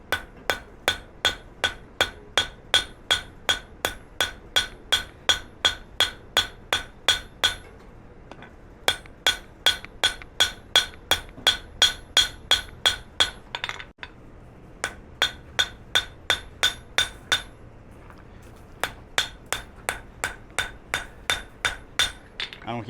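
Steel is hammered on the edge of an anvil while forging cable Damascus. Loud, ringing blows land close by in a steady rhythm of about two per second, broken by two short pauses.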